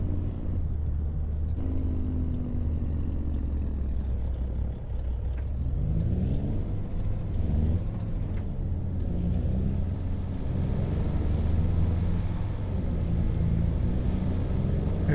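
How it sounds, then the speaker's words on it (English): Road traffic in the Farming Simulator 25 video game passes on a farm map, a steady low rumble of car and truck engines with a brief air-brake hiss, continuous and fairly loud with no talking. "There's that rush hour traffic again"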